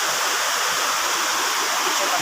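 Burayot Falls waterfall pouring in a steady, broadband roar that fills the whole short stretch, close and constant with no break.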